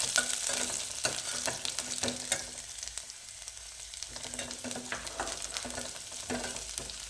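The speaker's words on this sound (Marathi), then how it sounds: "त्यामध्ये बारीक कापलेला थोडा लसूण घालून घेऊया" Chopped garlic and cumin seeds sauté in a hot pan, a close continuous crackling sizzle with scraping stir strokes and no talking.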